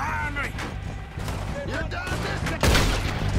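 Carbine repeater rifle gunfire in Red Dead Redemption 2 cracks out in a short volley, ending in a louder, close burst. Voices carry on underneath.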